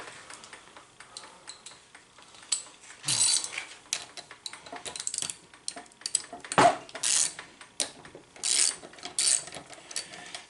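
A Craftsman socket ratchet works on a 6.2L Detroit diesel starter during disassembly, giving quiet, close rapid clicking in irregular bursts mixed with metallic taps and a few sharper clanks.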